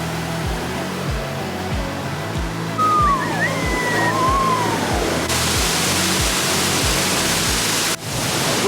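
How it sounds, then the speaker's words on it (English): Escondido Falls in Los Angeles pours as a full, steady rush of falling water, a dense hiss close by, with a low rhythmic thumping underneath and a brief bird chirp partway through. "Usually it's just a little dribble, but this is a real waterfall."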